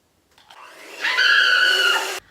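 An electric mixer creams cream cheese and butter with vanilla in a bowl. A short start-up whir swells into a steady, close, loud whine that holds for about a second before cutting off abruptly.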